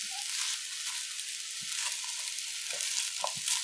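Fried rice being stirred and mixed in a pan with the stove turned off, giving a steady soft scraping and a faint residual sizzle, with a few light spatula knocks close by and no talking.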